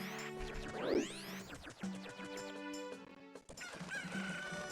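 Chicken clucking in the Majora's Mask video game, a run of game clucks and a squawk layered over synthesized game tones and effects, loud and close with no talk.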